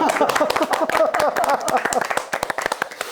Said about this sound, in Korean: 박수 한번 드려요.